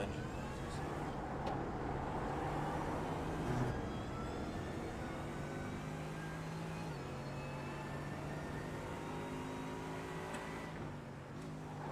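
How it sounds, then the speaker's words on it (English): Lamborghini and Mercedes GT3 race cars at the Nurburgring GP circuit, engines droning steadily with shifting pitch and gear changes, a continuous loud mechanical roar throughout. "between the Lamborghini and the Merc, they have some wonderful engine noises"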